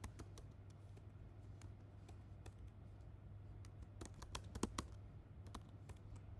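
Rapid, irregular keystrokes on a computer keyboard as questions are typed into a document, light clicks coming in quick bursts with brief pauses over a faint steady hum.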